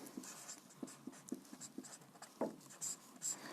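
Pen or chalk writing out an example during a classroom grammar lesson: soft, close strokes and taps in an uneven rhythm, with a few longer scratchy scrawls, faint and alone with no talking.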